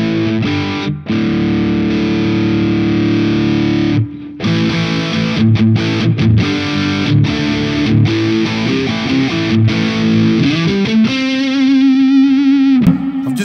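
Electric guitar played through a Laney Lionheart Foundry Super 60 112 amp at full gain with the boost engaged, heavily distorted sustained chords and riffs, loud and continuous with brief pauses between phrases.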